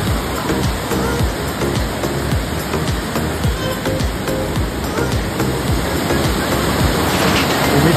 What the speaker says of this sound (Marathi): दोन नदी एकत्र भेटतात.